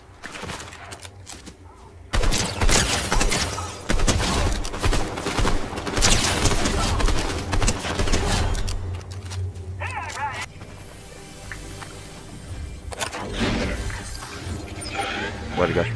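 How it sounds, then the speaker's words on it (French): Gunfire from a Fortnite battle royale match, with bursts and crackling shots layered over game sounds, while a player talks excitedly throughout. "Oh, ça tire."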